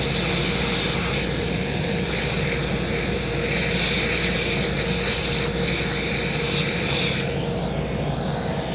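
A loud, continuous, close-up sanding roar comes from shoe soles being sanded in a cobbler's repair shop before priming, holding steady throughout with slight shifts in pressure.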